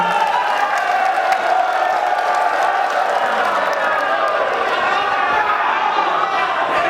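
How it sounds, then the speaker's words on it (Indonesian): Sustained audience applause fills a large room, a steady wash of clapping that stays loud from start to finish, at a Pelalawan regent candidates' debate. "kita beri tepuk tangan untuk kedua pasangan calon yang telah memaparkan visi misinya"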